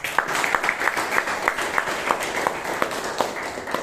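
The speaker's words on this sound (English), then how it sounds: "can we have a huge round of applause for Gupta?" An audience at a Toastmasters meeting in Bangalore claps steadily for a speaker, a dense sustained round of applause with sharp individual claps standing out, close and fairly loud throughout.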